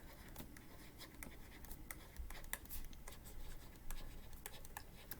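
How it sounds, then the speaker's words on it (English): Pen writing on paper during a math lesson, faint continuous scratching strokes with brief pauses, quiet and close, no voice over it. "So we can write that down."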